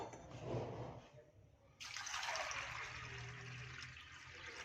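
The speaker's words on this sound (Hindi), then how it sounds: "अब इसमें हम पानी डालेंगे" Water splashes and gushes into a cooking pot holding chana dal in a home kitchen, starting soft and then becoming a steady, fuller pour that continues to the end, fairly close and with no talking.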